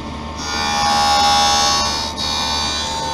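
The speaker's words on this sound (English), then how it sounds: "And when you hear a grinding sound, that's when your lens begins cutting." A lens edger grinding a polycarbonate eyeglass lens dry, a loud, steady whining hum with a brief dip partway through, close and continuous.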